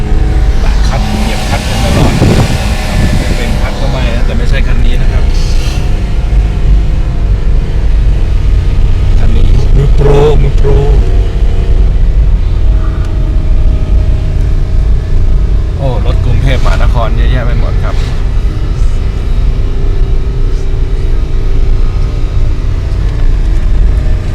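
A Nissan Almera driving up the steep road to Doi Inthanon's summit, its engine droning steadily close by with road rumble, rising strain in a few bursts, and a voice talking over it.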